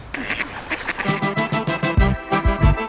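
Wild ducks quack on a snowy street in Kazan, a flock giving loud, rapid, overlapping calls that grow busier toward the end, close by.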